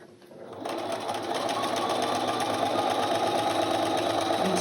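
Close and steady, a sewing machine stitches a quilt block piece after starting up, running at a constant rapid whir with no talk over it.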